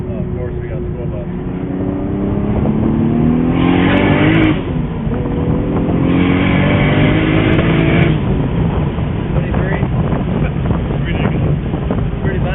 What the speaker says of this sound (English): The exhaust sounds really good.